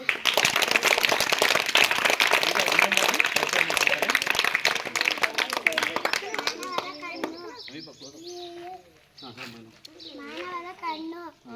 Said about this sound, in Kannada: ಓಕೆ, ಚಪ್ಪಾಳೆ ಬರಲಿ